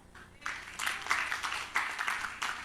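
Congregation clapping at a Korean prayer-house worship service, a short burst of moderately loud applause building after a quiet start, with a voice faintly present.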